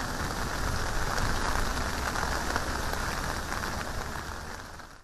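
Heavy rain showers pour down in a dense, loud, continuous hiss that holds steady, then eases slightly toward the end.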